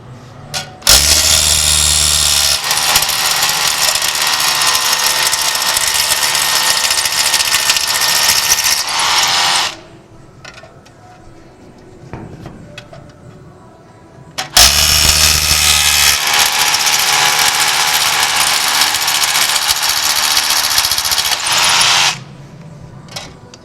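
A power drill runs loud and steady for several seconds, drilling anchor holes into steel, stops briefly amid faint clatter, then drills again in a second long burst.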